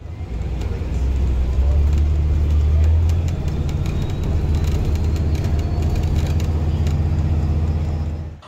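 A new city bus on the Route 84 UBC/VCC-Clark Station express drives along steadily, its mid-pitched engine hum and road rumble continuous and close throughout, with a low swell near the start.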